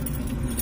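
A bunch of keys with accessories attached jangles continuously and closely, a dense metallic rattle with a low rumble underneath.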